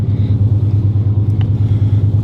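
A Chevy El Camino engine idles steadily after starting, a low, even rumble close by with a faint rattle partway through.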